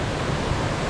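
A waterfall in Cebu, Philippines, heard as a dense, continuous roar of falling water, loud and steady throughout with no voices.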